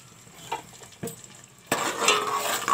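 Tomatoes with salt and ground chilies fry in a pan on a full flame, with soft stirring scrapes and clinks that give way to a louder, steady sizzle partway through, close-up and without speech.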